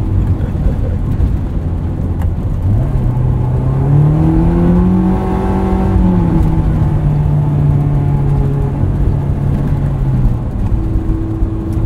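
A 2001 Honda S2000 with an aftermarket exhaust revs up from about three seconds in, its engine note rising, holding and easing back down, loud and close over steady road and cabin noise with no talking.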